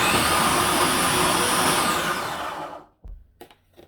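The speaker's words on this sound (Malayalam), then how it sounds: "ഇനി നമുക്കിതിനെ പൾസ് ചെയ്തെടുക്കാം." A mixer grinder pulses oats puttu dough in a loud, steady whir for nearly three seconds, then cuts off and follows with a couple of short bursts.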